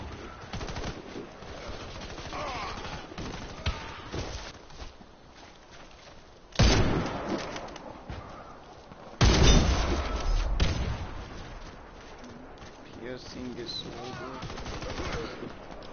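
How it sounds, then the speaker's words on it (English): Pistol and other gunfire in a shooter video game: scattered shots and two loud bursts of firing, mixed with game noise and occasional voice. "That's a pistol."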